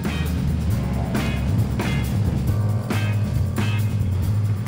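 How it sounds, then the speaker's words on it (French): Historic, classic and prestige racing cars roar around the Dijon-Prenois circuit during the Grand Prix de l'Âge d'Or, a loud continuous engine drone with repeated surges as cars pass close by, no voices. "se réveille le temps d'un week-end au vrombissement de voitures historiques, de collection et de prestige"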